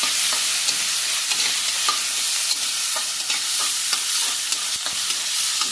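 Ivy gourd with cumin sizzles loudly and evenly in a pan, a dense hiss dotted with light, irregular ticks and spatula knocks throughout.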